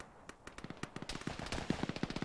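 Rapid bursts of rifle and machine-gun fire ring out in a military shooter game, a quick rattling string of sharp shots growing denser and louder, heard alone without speech.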